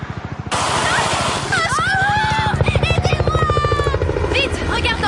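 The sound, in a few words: helicopter in animated cartoon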